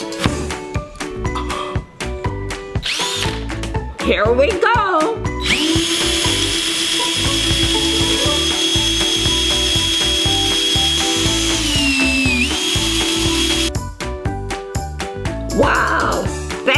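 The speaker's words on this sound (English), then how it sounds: "Stick the drill in the apple." A power drill whirs steadily as it spins an apple against a peeler, a continuous loud motor drone running for about eight seconds, with short bursts of speech before and after.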